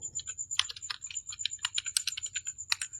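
Fingers tap out quick, uneven runs of clicks on a computer keyboard while entering text in a Microsoft Excel spreadsheet, close and clear, with short gaps between bursts.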